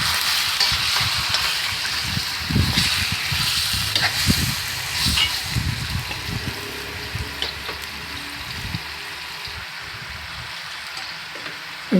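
Marinated sliced pork pata sizzles and frys steadily in a pan, a continuous close crackling hiss with occasional stirring or scraping bumps throughout.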